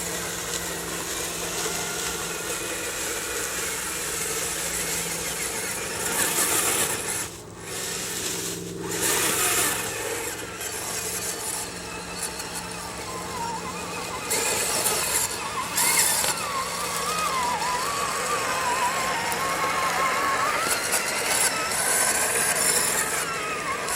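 Off-road vehicle fitted with an AR44 axle and leaf spring mounts driving on rough trail terrain, a continuous engine drone with shifting rumble and brief dips, heard close for the whole stretch without speech.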